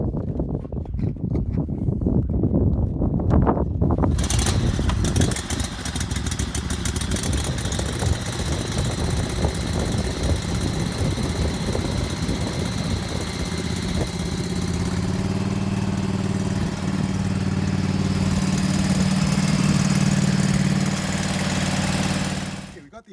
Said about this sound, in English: The engine running.